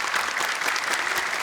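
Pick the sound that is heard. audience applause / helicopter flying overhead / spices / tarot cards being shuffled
audience applause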